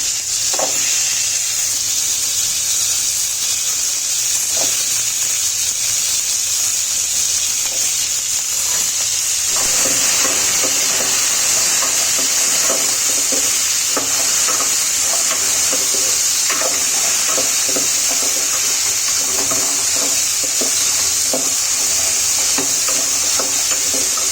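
Potato pieces fry in a pan among mixed vegetables with pumpkin seeds and peanuts, a constant hissing sizzle that grows busier partway through as stirring scrapes and crackles join in, close and fairly loud.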